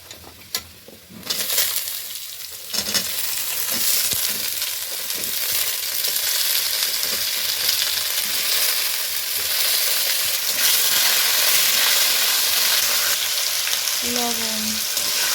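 Bori lentil dumplings frying in oil in a pan, a loud continuous sizzle with occasional stirring clicks, close by and without talk.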